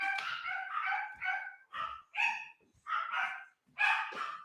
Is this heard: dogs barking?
yes